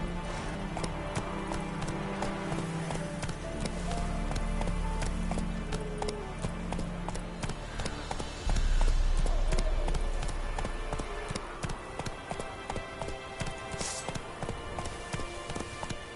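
Horse named Roach galloping, a rapid rhythmic clip-clop of hooves that builds and surges midway, mid-distance and steady, with a person talking briefly over it.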